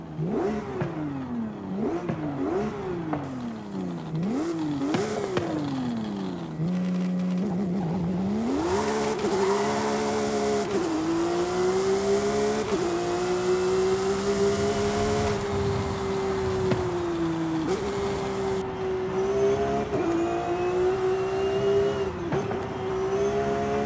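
A naturally aspirated flat-six in a 991.2 Porsche 911 GT3 RS in Forza Horizon 5 revs in quick repeated climbs, then holds a loud, high, wailing pitch with small shifts, close and alone.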